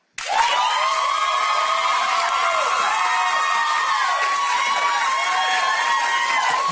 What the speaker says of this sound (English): I want applause for Star.